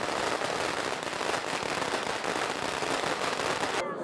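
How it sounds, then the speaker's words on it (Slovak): Firecrackers go off at a Chinese street procession, a dense, continuous crackle of rapid pops that stays loud and unbroken throughout before cutting off abruptly at the end. "za rovnakým účelom sa strieľajú aj hlučné petardy"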